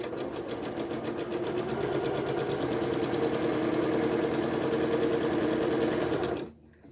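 Close, steady run of a sewing machine stitching quarter-inch seams on a 1938 vintage diamond pane quilt block, a continuous fast mechanical chatter that stops abruptly near the end, leaving near silence.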